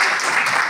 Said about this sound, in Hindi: तो तालियां बजा दो